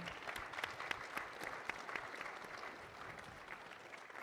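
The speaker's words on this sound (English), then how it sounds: "please clap for it" Conference attendees applaud, a crowd of hands clapping steadily with a few sharper claps standing out, fairly distant and quiet, with no speech.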